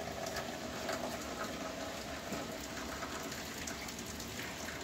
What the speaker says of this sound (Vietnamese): Ngoài trời đang mưa.